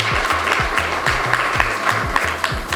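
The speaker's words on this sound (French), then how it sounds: "On s'applaudit." An audience at an Ivorian cultural day event in Canada bursts into sustained applause, a dense, even patter of many clapping hands with a low steady rhythm running beneath it.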